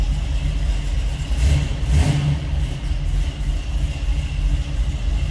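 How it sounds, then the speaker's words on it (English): 1968 Chevrolet Camaro convertible with a 327 V8 and a mild cam, revving in neutral: a loud, close, rumbling engine with uneven, lumpy pulses and brief rises in pitch as the throttle is blipped. "As you can hear, nice sounding car."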